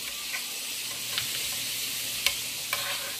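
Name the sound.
pork chops being flipped and sizzling in a frying pan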